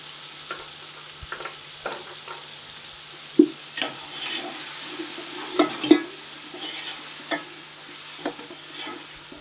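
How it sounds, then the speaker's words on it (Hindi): A spiced masala fries in a pan for vegetable pulao, with a steady sizzle under repeated scraping and tapping of a spoon as it is stirred, some knocks sharper than others. "मसाला अच्छे से फ्राई हो गया है"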